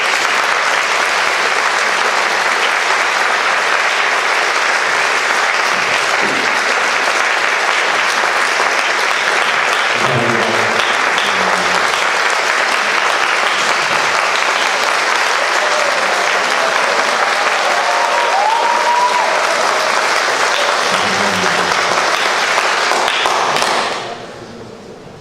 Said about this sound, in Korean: 우리 이재기 목사님 나오실 때 여러분 조금 박수.